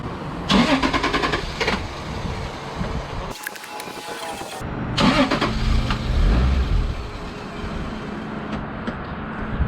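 A Porsche 911 Turbo SC engine being cranked after long disuse: rapid starter clatter, a pause, then more cranking until it catches and settles into a rough, loud idle, recorded close with no speech.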